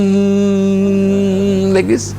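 A voice hums a steady, droning buzz for about two seconds, imitating a honeybee, then breaks off into a brief spoken word.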